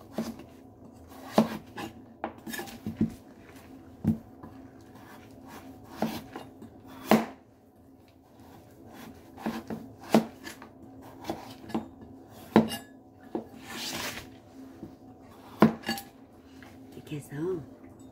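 Knife working through an old pumpkin for pumpkin rice cake, a series of irregular scraping cuts and clinks against a board, fairly close, with a quiet voice in between.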